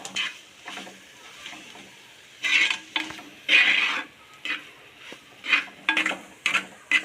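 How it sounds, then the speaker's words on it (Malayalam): Duck curry masala is stirred in a pan for Kuttanad-style curry, producing intermittent bursts of scraping and sizzling with spoon-on-metal clinks, separated by quieter gaps, close and moderately loud. "ഇളക്കി കൊടുക്കുക"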